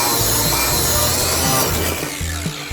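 A power tool grinds and polishes a weld on metal in loud, continuous rasping strokes with a rhythmic pulsing pattern, close and without speech.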